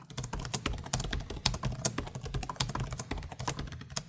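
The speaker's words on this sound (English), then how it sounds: "They are nice and clicky, but they don't have very long key travel." Rapid, clicky keystrokes on an Asus V16 (2025) laptop keyboard with short key travel, close up, a steady stream of crisp clicks with no talking.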